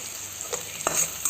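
Onions and popping mustard seeds sizzle in hot oil in a kadai, with a steady fry hiss broken by a few sharp stirring scrapes and crackles.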